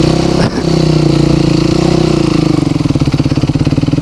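A Yamaha YZ 450 dirt bike with motocross tires rides across a wooden bridge, its loud single-cylinder engine close and throbbing, easing into a lugging, pulsing low-speed run with a brief knock from the boards.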